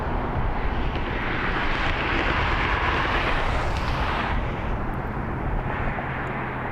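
An Asiana airliner at Las Vegas airport, its jet engines giving a steady, loud, broadband roar heard from outside that holds throughout without a break.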